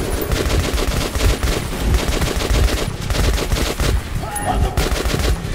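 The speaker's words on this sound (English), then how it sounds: "I have shot you a whole lot." Dense automatic gunfire from the Metro 2033 Redux video game, rapid overlapping bursts sustained loudly throughout with no pauses.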